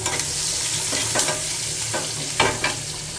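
Dried red chilies and salt frying in a pan, a close, loud hissing sizzle broken by several scraping stirs and crackling bursts.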